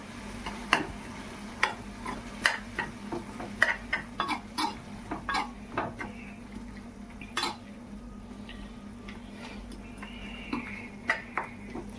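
Noodles mixed in a pan, with repeated metallic clinks and scrapes of a utensil against the pan at an irregular rhythm, close and fairly loud over a faint background sizzle.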